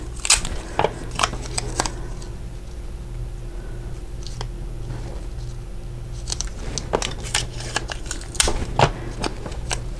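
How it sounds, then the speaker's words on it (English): Post-it note tape pulled, torn and pressed onto a stamped card for masking, a close run of irregular crisp ticks, rips and paper rustles. "I'm going to just cover up the little laurels with this Post-it note tape on the top and the bottom"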